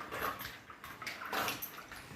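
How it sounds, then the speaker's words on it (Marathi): Chana dal with a pinch of salt is rubbed and rinsed by hand in water, giving soft, close sloshing and trickling that stays faint and steady throughout. "ही डाळ अशी छान धुवून घ्यायची"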